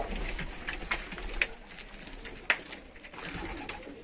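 Hünkari pigeons coo softly in a loft holding eggs and young birds, a low repeated cooing close by amid light rustling and a few sharp knocks.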